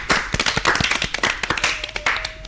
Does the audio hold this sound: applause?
yes